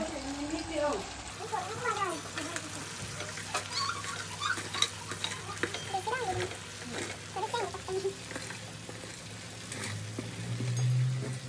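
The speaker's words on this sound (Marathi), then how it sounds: "तर आपण आता भाजी टाकूया त्याच्यात." Vegetables for veg crispy stir-fried in a pan, with steady scraping and stirring over a soft frying hiss while voices talk throughout.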